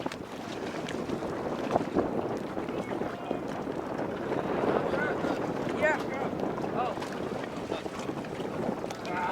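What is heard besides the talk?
boat passing on water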